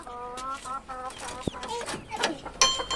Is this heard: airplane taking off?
no